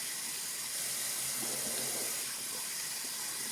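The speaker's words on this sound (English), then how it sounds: "now I'll just rinse this off. Make sure the water's not too hot or too cold" Tap water runs steadily into a bathroom sink during a morning routine, a continuous close hissing splash as something is rinsed off under the stream.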